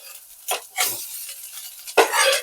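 Potatoes and chili powder are stirred in hot frying oil for a potato curry, giving close bursts of sizzling and scraping in a few separate strokes.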